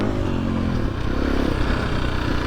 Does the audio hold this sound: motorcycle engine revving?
yes